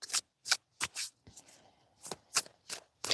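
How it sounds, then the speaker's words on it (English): Tarot cards are shuffled close up in a quiet setting, several short crisp riffling bursts with brief pauses between them and a softer rustle in the middle. "So let's give this a shuffle and see what do we have this upcoming week."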